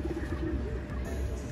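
Racing pigeons, including blue bar checkered birds, coo low and soft in a short stretch over steady outdoor background noise.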